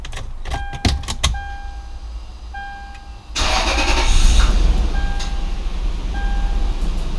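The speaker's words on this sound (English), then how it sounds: "I'm going to hook up the battery, put the key back in, see if when I start it" A Lexus GX470 is started with the key: chime tones and clicks precede the starter, then the engine catches and settles into a loud, steady idle close by.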